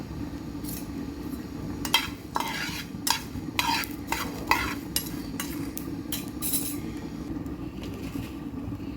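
Whole spices such as cumin, cloves and peppercorns are being dry-roasted and stirred in a pan for a mutton curry masala. A utensil scrapes and rattles through them in repeated strokes over a soft, steady sizzle, up close, with no talking.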